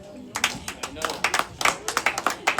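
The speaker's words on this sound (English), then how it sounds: "you can clap." A small convention audience at a financial report claps in a loose, moderate burst of distinct individual claps, with voices audible alongside.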